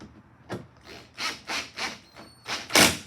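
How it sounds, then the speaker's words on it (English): A cordless drill drives screws into a plastic taillight socket on a Ford F150, giving several short rasping, cracking bursts in a steady rhythm, each about a quarter second long, close and fairly loud, ending on a stronger final burst. "That's the drill you're hearing."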